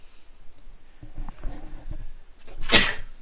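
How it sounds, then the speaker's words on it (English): A single sharp, loud sneeze bursts out near the end, following a stretch of quiet shuffling and soft handling noise during a Magic: The Gathering Commander card game session. "I had to sneeze."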